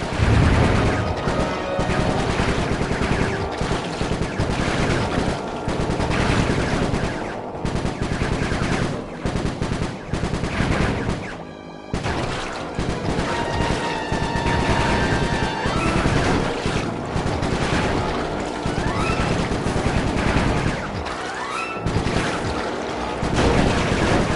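Sustained rapid gunfire in the game Sly 3, dense bursts of automatic shots hammering almost without pause, loud and close, with a brief lull near the middle.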